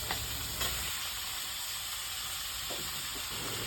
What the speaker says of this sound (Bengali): নোনা ইলিশগুলিকে বেশ খানিকটা সময় উল্টে পাল্টে ভাজার পর এখন কেটে রাখা চাল কুমড়োগুলিকে নোনা ইলিশটার উপরে অ্যাড করে দেওয়া হচ্ছে।